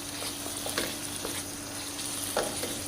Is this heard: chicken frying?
yes